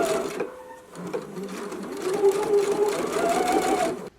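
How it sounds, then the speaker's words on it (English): A sewing machine stitches a narrow hem with a close, rapid mechanical whir and needle chatter that runs almost continuously, easing briefly near the start and stopping at the end. "Once you have it pressed, now you can stitch your hem in place."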